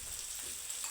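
Onion and chutney frying together in a pan, a steady soft sizzle with light stirring running evenly through the brief moment, fairly quiet and close.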